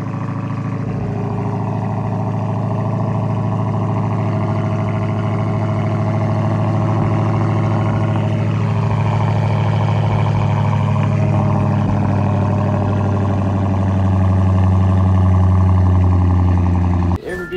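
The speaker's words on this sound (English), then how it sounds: "So this would be like a fucking 3-day cold start." A car engine idling steadily after sitting unused for three days, heard as a loud, even low drone with a slight rise in revs near the end, running alone without talk.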